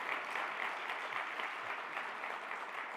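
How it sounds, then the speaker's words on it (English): A roomful of people applauds at a university leadership retreat, a dense, even patter of many hands at moderate distance, steady for three seconds. "I think an applause for this group,"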